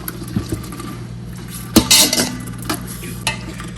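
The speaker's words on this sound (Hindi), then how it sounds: "अभी हम सिर्फ अपने चिकन को इसमें भूनेंगे" Chicken is stirred and fried with onion in a pot for Hyderabadi biryani: a few close metal scrapes and clinks of a spoon against the pot, one louder clang near the middle, over a faint background hum.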